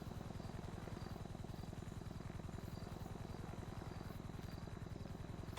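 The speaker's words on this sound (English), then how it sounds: "So here, a helicopter." A video game helicopter's rotor beats in a fast, steady chop with a constant engine hum, close and continuous throughout.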